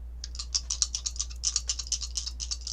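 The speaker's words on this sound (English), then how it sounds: "So now I'm going to do the astrology dice." Small astrology dice are shaken and rattled, giving a quick, uneven run of light clicks and taps that last for about three seconds under a steady low hum, with no speech.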